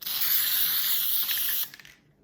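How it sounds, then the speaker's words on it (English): A spray can hisses steadily onto the top of a small pumpkin for decorative moss, one continuous close, bright spray lasting over a second before cutting off into a few faint sputters. "I'm going to spray the top of the pumpkin so that the decorative moss will attach to it."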